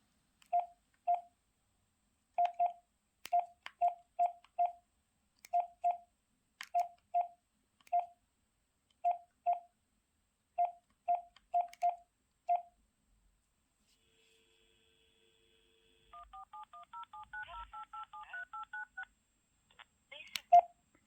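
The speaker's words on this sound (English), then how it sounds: "So let me just call my phone." Samsung Galaxy S22 Ultra dialing a call, a string of short evenly spaced keypad tones, then a soft warbling ring sequence, all faint and alone.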